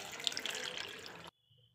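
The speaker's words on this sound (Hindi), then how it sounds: "अब इसमें हम 1 ग्लास पानी डालेंगे।" A glass of water poured into a cooking pot while making momos chutney, a steady splashing pour that runs about a second and a quarter and then stops abruptly, followed by near silence.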